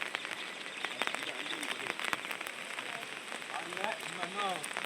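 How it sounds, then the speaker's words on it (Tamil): Steady rain patters on a surface beside the flooding Kadananathi river, a dense continuous hiss with scattered drop taps, while faint voices murmur in the background. "மழை பெஞ்சுட்டு இருக்கு"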